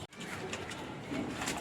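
Pigeons coo faintly in a quiet loft, with a soft, low, throaty murmur toward the end over a steady background hiss and a brief click at the start.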